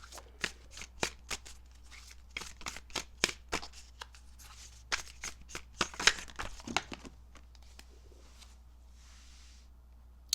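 Tarot cards are shuffled and drawn by hand: quick crisp riffles and snapping card flicks come in irregular bursts, close up, with short pauses between them.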